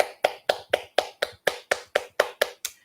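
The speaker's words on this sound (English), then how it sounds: "And then we clap our hands." Hands clapping in an even, steady rhythm, about a dozen crisp, close claps with no talking.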